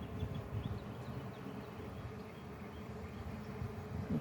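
Honey bees hum steadily and faintly during an open hive inspection, a continuous low buzzing drone with no voices over it.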